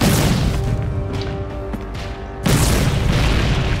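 A mortar round in the video game Foxhole, a loud booming blast with a rumbling tail, then a second heavy burst that hits hard and keeps ringing near the end.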